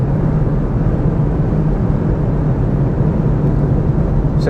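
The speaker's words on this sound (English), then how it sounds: "Quite a lot of wind noise," Cabin wind noise at speed inside a Lexus GX550 Overtrail+, a steady broadband roar with deep low rumble, constant and loud, without speech.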